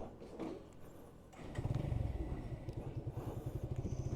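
A motorcycle engine revs up and settles into a steady, rapid thumping idle nearby, fairly quiet.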